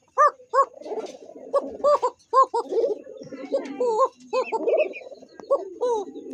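An almond-coloured Coca pigeon repeats short rising-and-falling coos in quick bursts, close and fairly loud, with breathy rumbling between calls.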